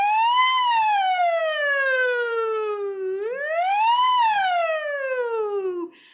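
A human voice imitates an ambulance or fire truck siren in a playful way, two long swooping wails that fall, rise, then fall again, clear and alone.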